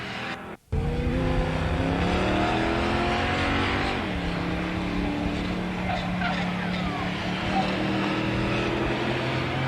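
A Chevrolet Nova street stock race car at Slinger Speedway roars close by with a strong, steady engine drone and a shifting pitch, mixed with other racing engines after a brief cut at the start.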